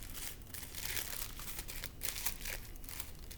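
Thin tissue paper crinkles and rustles steadily as it is folded over and twisted into a flower stem, a close, soft crackling with brief sharper crunches throughout.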